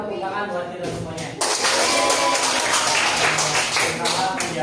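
Students applauding in a classroom, a dense burst of clapping that starts abruptly and continues loudly after a spoken prompt, with a voice heard just before.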